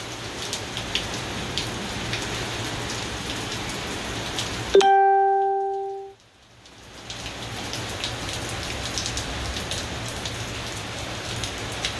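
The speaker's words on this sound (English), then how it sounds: "It's just heavy rain." Steady heavy rain pours down, with a sudden loud ringing clang that fades over a second or so before the downpour resumes.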